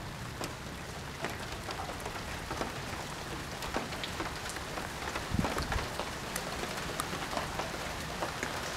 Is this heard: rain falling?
yes